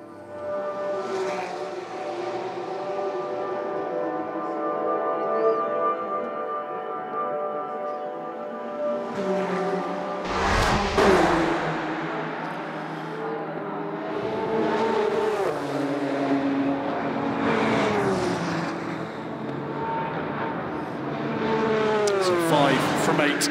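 Race cars roar past at the 2016 6 Hours of Spa-Francorchamps endurance race, their engine notes rising and falling as they approach and recede, heard under continuous commentary.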